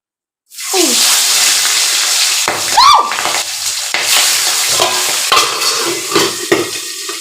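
Fish frying in a pan with spices, starting with a sudden loud burst of hissing oil that keeps sizzling steadily and close, with scraping and clattering from stirring.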